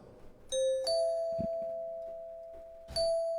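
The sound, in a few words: bells ringing in a percussion loop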